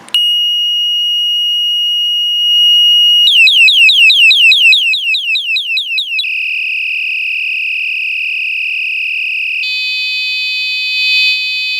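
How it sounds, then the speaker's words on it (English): Rechargeable 140 dB waterproof LED bicycle horn held down as it cycles through its electronic sounds: a steady piercing beep, then a rapid warbling chirp, a constant high tone, and a buzzy alarm tone, each loud and close with no talking. "now to change the sounds, you need to press and hold down the horn and let it run"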